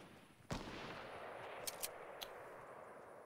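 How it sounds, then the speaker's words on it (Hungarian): A single loud sniper shot cracks in a Fortnite match, followed by a few fainter, sharper shots in the distance against steady game ambience. "nem jönnek most össze ezek a sniper lövések, nagyon-nagyon közel vannak pedig"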